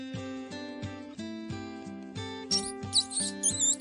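A mouse gives a quick run of high, thin squeaks in the final second and a half, faint but distinct over a light bouncing music loop.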